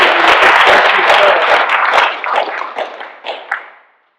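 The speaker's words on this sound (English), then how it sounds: "another round of applause to Ted Green" Audience applause at a business breakfast: a dense burst of clapping from a room of people, loud and close, thinning out into a few scattered claps before fading to silence.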